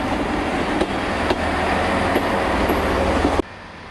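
A Class 158 diesel train of Arriva Trains Wales idles inside the train shed at Holyhead, giving off a steady, loud engine rumble with faint clanks that stops abruptly near the end.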